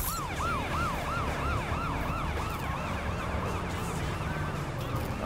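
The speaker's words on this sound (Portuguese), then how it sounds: "Cara, eu levei um susto com o barulho da ambulância" Ambulance siren in the racing video game The Crew, a loud wailing tone rising and falling steadily for several seconds over a car engine.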